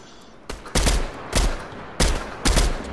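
Several sharp, loud gunshots fired at enemies in a shooter game, coming in quick pairs and singles about half a second apart over a low background hum.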